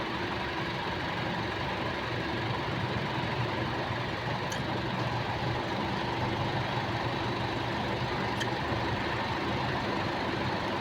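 An Isuzu MU-X engine idles steadily at close range during a coolant flush, a continuous low mechanical drone with an even hum and no voices.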